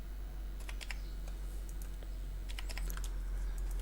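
Quiet typing on a computer keyboard while data is entered into an Excel spreadsheet: a few scattered clusters of light key clicks with pauses between them, over a steady low hum.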